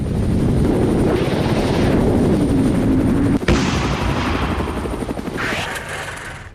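Russian military helicopter during an attack on a Ukrainian army stronghold, a loud, close rotor thump and roar that is continuous, with a sharp bang partway through.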